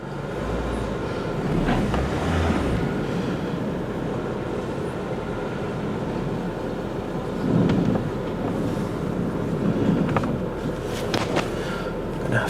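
A Renault Sport Clio, unused for three years, creeps out of a garage with its engine running: a low, steady rumble with occasional louder swells as the car moves.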